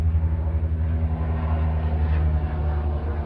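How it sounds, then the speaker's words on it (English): A helicopter flies low overhead, heard as a loud, steady low rotor rumble with a pulsing throb throughout and no voices. "helicopter."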